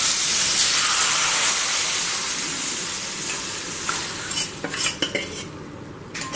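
A palm jaggery (karupatti) halwa mixture stirred in a pan, a dense hissing sizzle with utensil scraping that eases off, then several sharp clinks and knocks near the end, no voices.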